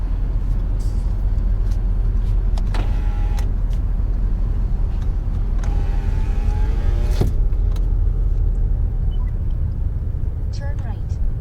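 Car driving along a street near the Church of God of Prophecy Assembly Tabernacle in Cleveland, Tennessee, with a steady low road rumble throughout, a few brief mechanical clicks and squeaks, and people talking over it.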